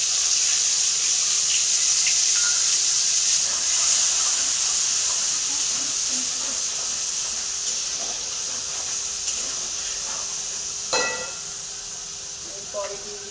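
Onion paste sizzling in hot oil with whole garam masala spices such as cinnamon, cloves and cardamom, a steady close hiss and crackle running throughout with small pops and no talking.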